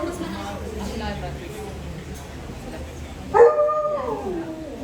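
A Shih Tzu Pomeranian mix howling with drawn-out, wavering cries, then a sudden sharper yelping bark near the end, with people talking throughout.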